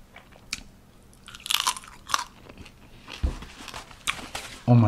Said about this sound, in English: I'm ready for this crunch.